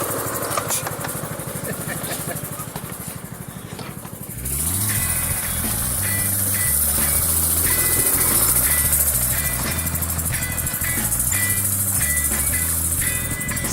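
Small engine of a go-kart built from scrap metal running at low throttle, a close, steady rattling drone that rises and grows rougher partway through as throttle is applied, continuing throughout.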